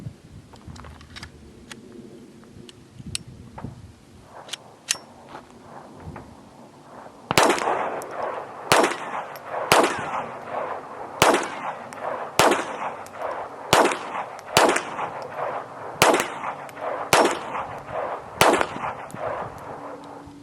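A .22 rifle firing Federal Target Match standard-velocity rounds, ten sharp cracks spaced about a second apart, loud and close after a stretch of quieter handling clicks, no voices.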